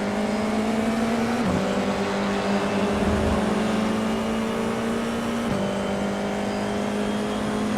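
Steady high-revving open-wheel race car engine in the iRacing sim, an FIA F4 car, drones loudly and continuously with a couple of abrupt pitch drops as gears shift, no voices over it.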